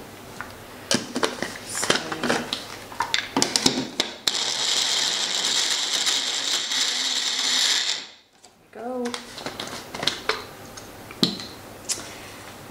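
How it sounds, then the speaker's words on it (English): Kitchen blender briefly whirring through prunes, a steady mid-loud motor whine for about four seconds that cuts off abruptly, surrounded by clattering and handling noises of ingredients being prepared. "I'm just going to blend them up a little bit just to make them a little bit easier to mix in as well."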